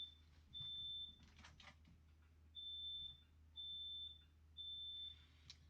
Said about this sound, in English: She just shut off the smoke detector because she's making dinner.